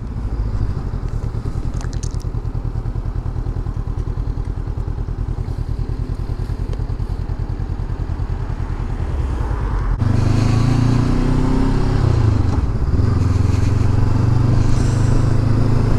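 A Honda CB500X motorcycle is ridden on an everyday road trip, its engine droning steadily with wind rumble that grows louder and rougher about halfway through as speed rises.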